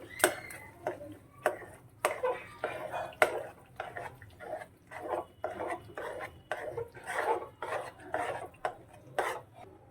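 Eggplant bharta (oro), a Kathiyawadi-style Gujarati dish, being stirred in a pan, with a steady run of scraping, clinking utensil strokes against metal, moderately close, with no talk.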